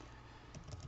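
Keys clicking on a computer keyboard while entering code in a Python Pandas tutorial, a few faint, quick taps bunched near the end of a quiet second.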